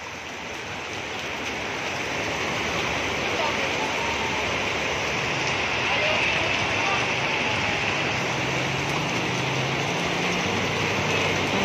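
Heavy rain pours steadily in a constant broadband hiss that stays loud and close throughout, with no talk over it.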